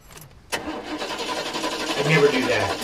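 A car engine cranks in a weak attempt to start on a dead battery, a sudden burst after a short quiet moment that continues as a strained, uneven churning, fairly close and moderately loud.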